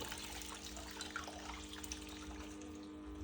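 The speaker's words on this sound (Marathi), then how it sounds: "आता आपण ही डाळ यात पुरणाच्या चाळीमध्ये चाळणीमध्ये ओतून घेऊ" Cooked chana dal poured into a sieve, faint steady trickle of water draining with a low continuous hum underneath.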